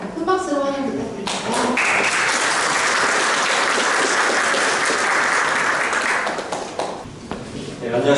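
Audience at a Chungbuk policy vision seminar applauds to welcome a speaker, a sustained wash of clapping rising after a brief spoken lead-in and fading near the end as talk resumes.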